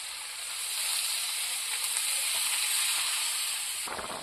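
Water poured into a pot of frying chicken spare parts during village-style kosha cooking, giving a loud, steady, hissing sizzle that swells after the first half second and holds, with a brief clatter near the end.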